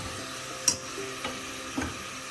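Onions sauté in oil for a mutton curry, a soft steady sizzle broken by three scrapes or stirs spaced through it, close and fairly quiet, with no talk.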